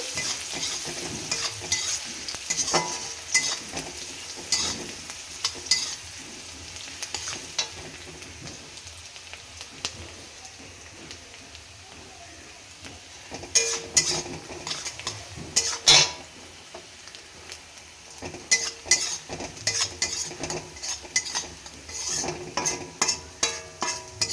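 Chopped onions fry on a low flame while a spoon stirs them, soft continuous sizzling broken by clustered scraping and clinking strokes against the pan, growing busier in the second half.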